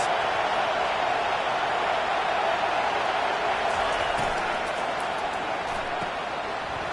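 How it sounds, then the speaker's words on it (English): A huge stadium crowd roars with a sustained, steady wall of cheering noise at a USC vs Clemson college football game, loud and unbroken throughout. "Listen to this crowd just shaking the girders of this place, trying to help their defense."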